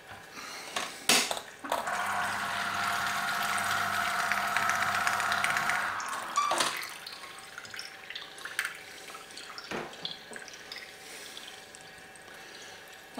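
Oranges pressed on a Breville Citrus Press, a steady motorized whir with juice trickling for several seconds, framed by sharp clicks and clunks of the lever and fruit being handled, near and moderately loud.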